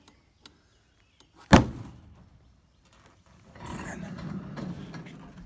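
Fold-down ramp piece on a 22-foot V-nose Neo trailer folding up and closing, a single sharp metallic clank up close followed by a short fade, then scraping, rattling handling noise.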